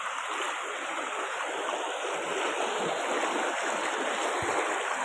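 Floodwater rushing steadily around village houses, a dense continuous roar of flowing water heard close up with no voices.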